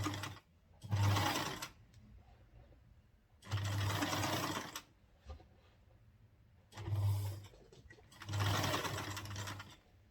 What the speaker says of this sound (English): After sewing it, then I'll press it down to sew it to the body of the corset.